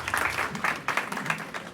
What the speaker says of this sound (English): Maybe we start with a round of applause for each and every single one of you.